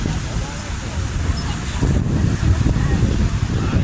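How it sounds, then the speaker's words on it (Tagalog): Wind blows hard across an open beach in Hong Kong, leaving a constant low rumble and buffeting on the microphone. Surf noise sits underneath, and the wind grows stronger partway through. "Yan guys, mahangin na siya."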